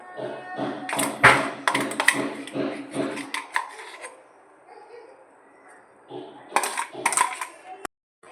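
Chopped walnut mixture tipped into a pan of hot ghee for chocolate walnut halwa, giving a run of clattering taps and scrapes of a spoon against the pan, then a quieter stretch and a few more clinks near the end.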